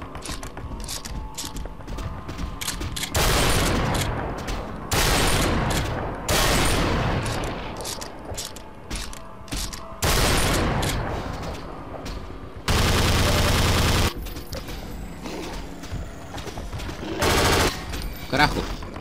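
Gunfire in Half-Life 2: Episode Three, several loud bursts of rapid automatic shots in separate volleys, close and harsh, between stretches of quieter game ambience.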